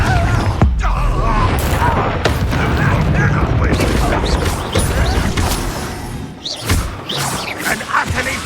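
Explosive Confringo spell bursts in Hogwarts Legacy crash and thud through busy, loud combat, with sharp cracks and booms scattered across the scene and a voice talking over parts of it.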